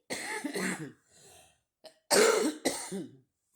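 Several harsh, close coughs in quick bursts, with short pauses and a throat-clearing sound between them.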